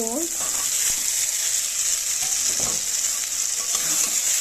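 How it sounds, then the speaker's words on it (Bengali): Boiled figs frying and being stirred in a pan with whole green chillies, a steady loud sizzle running throughout with a few brief scrapes of the spoon, no voices. "ডুমুরটা দিয়ে খুব ভালো করে আমি কষিয়ে নেব"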